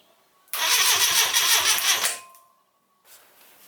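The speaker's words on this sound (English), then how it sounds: "I'm just going to touch the solenoid power the solenoid on to start the starter motor up" A Citroen GS 1.3 engine is cranked by its starter motor in a rapid, rhythmic churn for about a second and a half before cutting off, followed by a short pause and a faint later noise.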